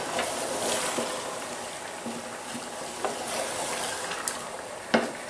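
Chicken karahi meat and masala frying in a pan, stirred with a spoon; a steady sizzle with scraping stir strokes and a sharper clink near the end, no voices.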